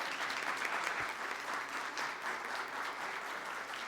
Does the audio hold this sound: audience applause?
yes